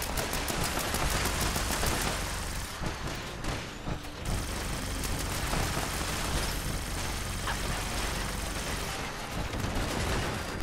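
Bloodied Gatling Plasma in Fallout 76 firing at robots in a dense, continuous rapid-fire barrage, loud and sustained with a brief break midway.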